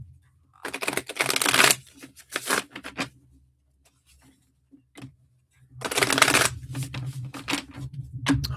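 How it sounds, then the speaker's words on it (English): Two bursts of rapid tarot card shuffling, a riffling flutter of cards close by, separated by a quiet pause with faint rustling. "Let me shuffle these up real quick."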